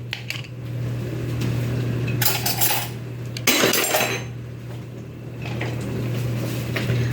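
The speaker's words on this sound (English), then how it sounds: "Okay, that was me dropping a spoon" Spoon dropped in a home kitchen while cooking, brief clattering metallic impacts against hard surfaces, loud and close, rising over a steady low hum from a fan or appliance.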